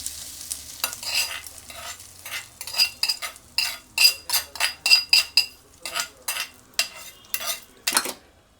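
Rapid bursts of sizzling and crackling as spices and dried red chillies hit hot oil for tempering, a run of sharp spattering pops with a faint metallic clink, no voices.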